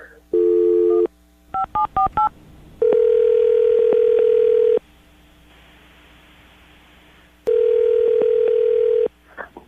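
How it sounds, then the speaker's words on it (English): Touch-tone beeps of a phone number being keyed in, a quick run of tones between stretches of steady dial tone, loud and close with a faint hiss between. "I'm going to dial the phone number right now"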